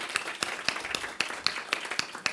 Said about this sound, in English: And so if one more round of applause for my team